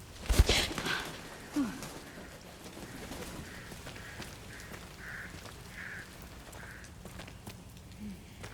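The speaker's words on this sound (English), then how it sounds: "What the birds have to say." Crows cawing in the Resident Evil Requiem video game, a run of faint, evenly spaced caws from a distance over quiet ambient rumble, with a couple of louder knocks at the start.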